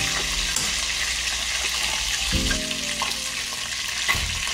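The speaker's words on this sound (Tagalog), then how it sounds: "continue lang po tayo sa pag-prito" Chicken steak fries in a hot pan with a steady, loud sizzle and crackle. A soft clunk and stirring scrape break in partway through.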